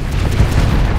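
A ship blowing apart in the space combat game Starsector: a loud, dense, low rumbling blast that fills the whole moment with no voices.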